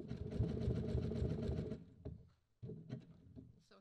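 A sewing machine stitches appliqué on a Halloween quilt block in a fast, steady run of close, quiet needle strokes, then stops and restarts in shorter bursts.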